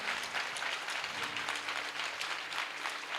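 A church congregation claps loudly and continuously, a dense wash of applause with voices cheering underneath throughout the short burst.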